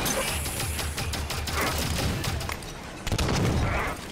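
Rapid gunfire from a weapon in Halo 5: Guardians, a dense string of loud, sharp shots over continuous battle noise, with a heavier burst near the end.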